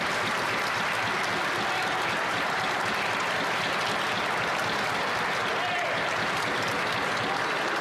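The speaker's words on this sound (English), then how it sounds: "All politicians, I know, enjoy applause when they speak, but there are times when we can do without it" Members in the House of Commons applaud and desk-thump in a loud, sustained wall of clapping that fills the chamber without letup, with crowd murmur blended in.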